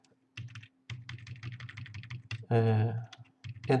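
Rapid keystrokes on a computer keyboard while entering code in RStudio, a steady close clatter of typing with a louder burst of keys near the end and no voice.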